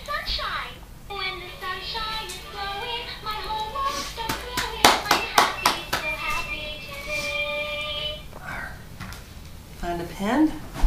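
A small child claps hands at home, a quick burst of about half a dozen close, sharp claps mid-clip, with an adult and someone talking and singing a tune before and after.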